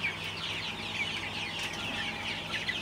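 Chickens on a poultry farm cluck and chatter steadily in a continuous flock din, with no voices over them.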